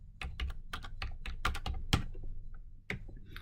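Rapid typing on a computer keyboard while entering invoice figures, a steady stream of close, crisp key clicks with a couple of brief pauses, quiet and without speech.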